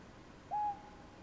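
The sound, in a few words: owl hooting in a video game forest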